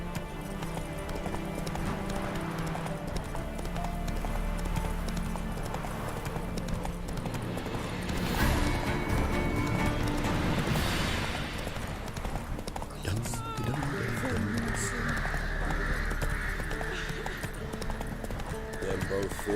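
Hooves of Roach, Geralt's horse in The Witcher 3, clip-clop in a steady galloping rhythm throughout, joined by a brief whinny, with game music and battle noise layered underneath.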